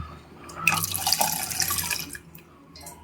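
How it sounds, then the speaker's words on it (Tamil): Tamarind water poured into a pot of agathi keerai sambar, a steady splashing stream lasting about a second and a half and then stopping, close and fairly loud. "அந்த புளி தண்ணி சேர்த்துக்கலாம்"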